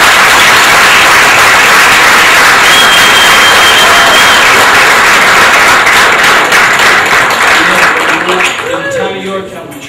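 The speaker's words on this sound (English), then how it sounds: "I'd just like to give you a small applause" Loud, dense applause from a crowd fills the room, continuing steadily before thinning out at the end as a voice starts speaking.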